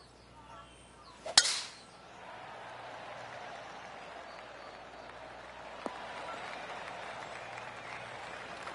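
A virtual golf gallery at TPC Boston in PGA 2K23 gives a golf clap: a sharp strike, then a quiet, thin patter of clapping and crowd murmur that swells slightly and lingers softly.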